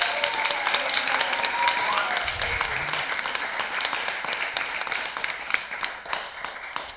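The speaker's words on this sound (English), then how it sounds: "Let's give her a big round of applause." An audience at a Dallas temple gathering claps in steady applause, a dense, even patter of many hands lasting several seconds at moderate distance.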